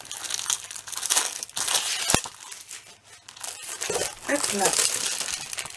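Paper packaging crinkles and crushes while a scrapbooking album kit is opened, bursts of rustling coming in waves at close range, with brief talk over it.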